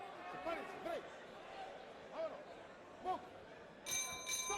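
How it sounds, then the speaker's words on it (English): A boxing bell rings to close the first round of a bout between light fighters under 120 pounds, bright metallic strikes near the end cutting through steady crowd noise and commentary. "The bell, the end of round number 1."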